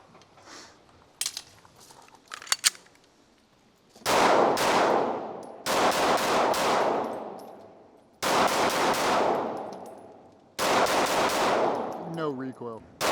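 Heavy bursts of rifle fire at an outdoor shooting range, with a SIG Sauer mount in use: a few sharp single shots, then four long rapid-fire strings, loud and close, separated by short pauses.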